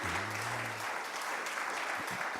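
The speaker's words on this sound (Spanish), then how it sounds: "Le damos un aplauso de bienvenida a estos hermanos" A church congregation claps in welcome, a dense, steady applause sustained throughout, with a brief voice at the start.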